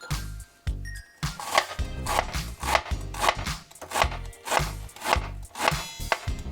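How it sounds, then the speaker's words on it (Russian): A knife chops steadily through crisp cabbage on a board, cutting it into long thin strips, a rapid series of crunchy cuts with brief pauses, close and clear. "который также нарезаем на соломку вот таким вот образом."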